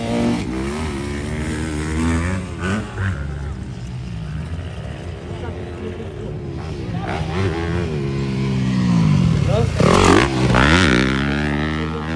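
Motocross motorcycles, including a 50cc bike, whine and rise in pitch during a women's motocross race heat, under continuous, excited commentary, with revving surges building toward the end.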